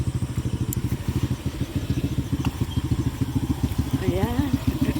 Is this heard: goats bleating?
no